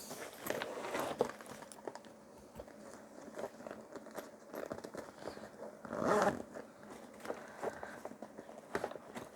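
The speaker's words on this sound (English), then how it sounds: "Let's zip this up." A zipper on an emergency bag is pulled closed in several quick, close rasping strokes, with a longer louder pull near the end among soft fabric rustles in a quiet room.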